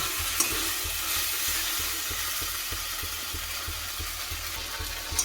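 Spiced chicken sizzling in a pan while being stirred, a constant loud frying hiss with regular scraping strokes of the spoon, close and without talk.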